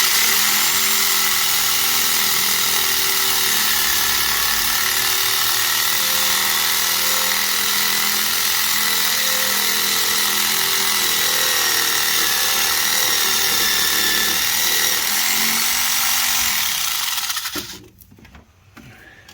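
A fine-toothed power saw cuts through a transmission cooler line on a 2007 Ford Escape, a steady high buzzing drone held close for about seventeen seconds before it winds down and stops.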